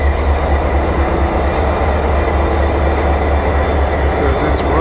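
A train engine running at the Railgiants Train Museum gives off a loud, steady low rumble with a constant mechanical hum and faint high whine, close by and unchanging throughout.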